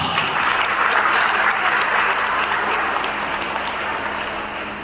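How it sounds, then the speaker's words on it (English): Students and staff at a school Chandrayaan-3 celebration give a student a round of applause, a full, steady patter of many clapping hands that holds for several seconds and gently fades. "Let us give him a round of applause."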